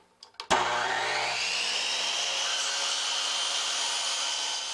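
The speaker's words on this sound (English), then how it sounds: "I'm going to chop a miter on both ends of each piece of the mahogany and of the holly" After a couple of faint clicks, a power miter saw spins up with a sudden loud whine and keeps a steady high-pitched drone while chopping miters in mahogany and holly strips.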